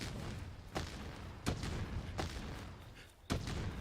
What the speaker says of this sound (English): Is that just a gun lance explosion?